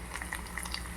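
Garlic and cardamom crackle in hot tempering oil, a brief, close burst of bubbling sizzle with small pops and no talking.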